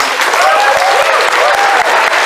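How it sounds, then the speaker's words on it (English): An audience at a live stage show applauds itself, a dense, steady wash of clapping with what sounds like a few whistles riding on top, sustained throughout. "You need the round of applause, so give yourselves one."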